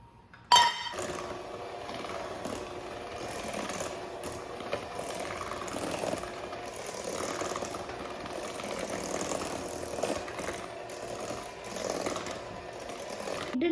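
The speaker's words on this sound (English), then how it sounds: "Just 2 or 3 minutes of whisking" An electric mixer whisks butter and sugar for a vanilla cake batter, a steady mechanical whirring with clinking against the bowl that starts abruptly and runs continuously, close and moderately loud.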